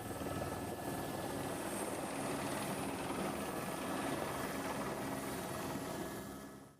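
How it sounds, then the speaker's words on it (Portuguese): A Military Police helicopter flies during a rescue of victims near Aratu, Brazil. Its rotors and engine give a steady, loud, continuous drone that does not change for the whole stretch, with no voices. "além de helicópteros da Polícia Militar, participam do resgate das vítimas"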